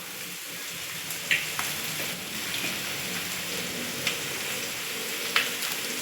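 Onion and curry leaves sautéing in hot oil for a Kongu-style kurma, a steady soft sizzle and crackle with a few sharp pops and spatters standing out now and then.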